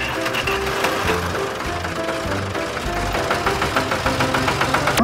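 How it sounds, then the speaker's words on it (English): Tractor engine running steadily at a construction site, a knocking, rhythmic mid-pitched clatter that stays close and even throughout, with mechanical ticks layered on top. "Tractor."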